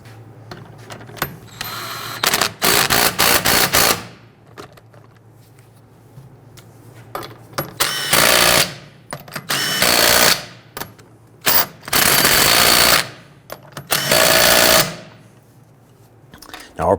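An impact wrench spins lug nuts onto a Toyota RAV4 wheel in loud rattling bursts of a second or two, separated by quiet gaps, close up in a garage.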